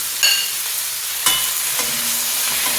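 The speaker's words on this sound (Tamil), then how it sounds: "இப்போ நல்லா தக்காளியும் வதக்குற வரைக்கும் கொஞ்சம் வெயிட் பண்ணுவோம்" Onion and tomato sautéing with curry leaves for arachuvitta sambar, a loud continuous sizzle with a couple of sharp spatula scrapes against the pan, close and steady, no speech.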